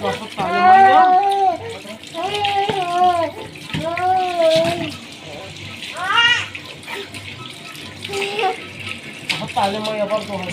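Water from a tap splashing steadily into a basin in a kitchen, running continuously under close talk from a woman and child.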